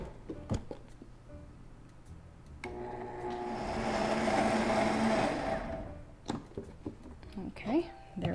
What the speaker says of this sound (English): So we're just going to blend this up until all of the dates are pulverized